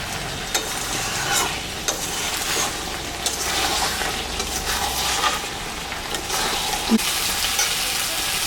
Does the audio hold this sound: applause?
no